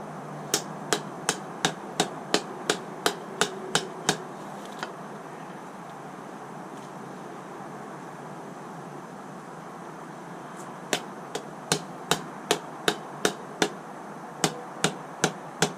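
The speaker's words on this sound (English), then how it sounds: "It's always good to have like a plastic hammer or rubber hammer for jobs like this" Sharp, regular taps of a plastic or rubber hammer during a trailer wheel hub rebuild, in two bursts of about a dozen each, separated by a quiet pause, with a steady background hum.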